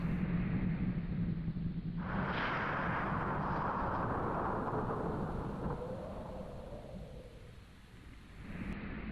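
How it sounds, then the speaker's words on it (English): Low, sustained rumble of thunder from an approaching storm, a broad rolling swell that builds near two seconds and slowly fades over several seconds against a steady background hiss, with no one speaking. "There's a storm coming, friend."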